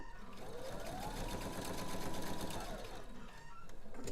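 Sewing machine runs a steady continuous stitch along quilt-top seams, a close mechanical whir held for several seconds without talk.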